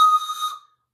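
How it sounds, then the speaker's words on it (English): A single bright, steady whistle blast, loud and close, sounds as a train whistle in a children's train-ride song, then cuts off into silence. "Here's my whistle"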